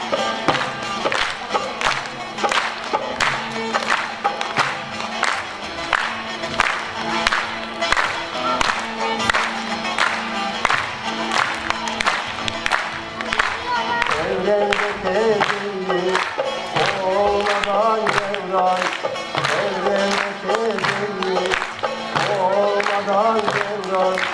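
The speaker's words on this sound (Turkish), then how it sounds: "Alkışla tutabilirsiniz." Steady rhythmic clapping from an audience keeps time with a Sema folk song, the claps spread evenly through the whole stretch beside the singing and instruments.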